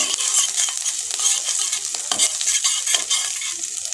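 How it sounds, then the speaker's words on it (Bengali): Ginger garlic paste fries in hot oil for chilli paneer, a close, busy sizzle with rapid spattering crackles and stirring, steady throughout with no talk. "এবার ওই গরম তেলেতে দিয়ে দেবো আদা রসুন বাটাটা"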